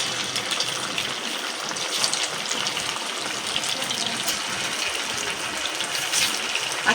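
Semolina and raw potato snacks frying in medium-hot oil make a continuous, even hiss and bubble that stays steady and moderately quiet throughout, with no talking.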